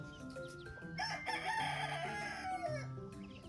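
One-month-old chicks chirp in a farmyard while nearby roosters crow and cluck, a layered mix of high peeping and louder fowl calls running throughout.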